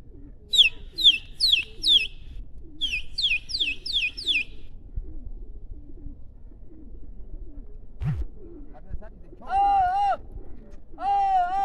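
Pigeons of a high-flying pigeon-racing flock cooing close by in hot weather, mixed with quick bursts of bright, repeated chirps and a low murmuring background.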